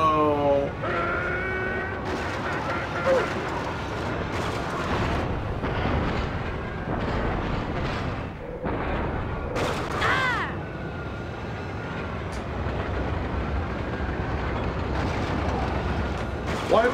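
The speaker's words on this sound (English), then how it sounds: "we're being shot at" Blaster fire and blasts in Star Wars Episode I Racer: repeated loud bursts and rumbling booms over roaring pod engines, with people talking throughout.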